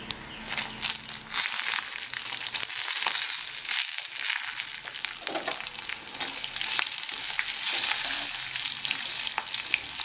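Dried red chillies and coriander seeds dry-roasting in a pan, a dense crackling, rustling sizzle as the spices are tossed and stirred, continuous and close with no speech.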